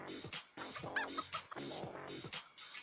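A chicken in the Turbo Dismount game clucks in quick, repeated bursts, close and fairly quiet, with no talk.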